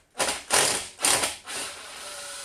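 A ratchet turns the 8mm bolts holding the rear driveshaft on a Jeep Grand Cherokee ZJ, giving three loud, close bursts of ratcheting about half a second apart, with a steady softer whir trailing after.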